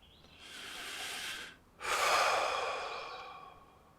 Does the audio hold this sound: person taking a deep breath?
yes